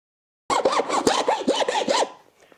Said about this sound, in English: Grab a hacksaw and we're just going to cut this now.